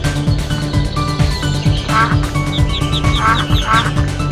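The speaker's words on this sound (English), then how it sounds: "Mother duck said quack, quack, quack, quack" Repeated cartoon-style duck quacks in short bunches punctuate a bouncy children's nursery-rhyme song about little ducks, set loud over steady music and a thumping beat.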